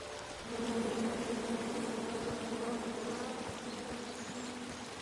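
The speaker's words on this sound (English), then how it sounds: "Come at me, bees!" Bees buzz steadily in a forest scene of the video game King's Quest, a dense, continuous droning swarm that stays loud and close throughout, with no talking.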